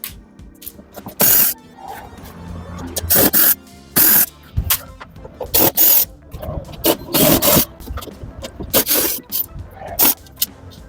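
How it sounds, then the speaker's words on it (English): Screws being removed from a faulty oven: sharp clicks, scrapes and metallic rasps come in irregular bursts, close and fairly loud, with short pauses between them. "I have to remove this screws"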